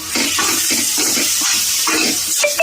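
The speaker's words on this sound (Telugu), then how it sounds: "నీళ్ళు అనేది పోసుకోవాలండి, అప్పుడే మనకి కారాలు అనేది మాడకుండా ఉంటాయి" Water pouring steadily into a pot of Telugu-style pumpkin curry (gummadikaya pulusu) with chili powder and coriander powder, a continuous close splashing gush lasting the whole moment with no talk.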